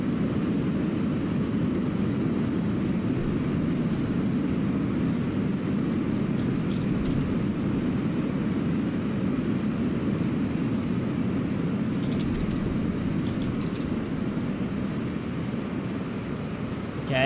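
An airliner on approach in Microsoft Flight Simulator 2020 gives a steady, broadband engine and airflow drone that holds unchanged throughout, with faint clicks near the end.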